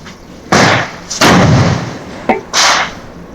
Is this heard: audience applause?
no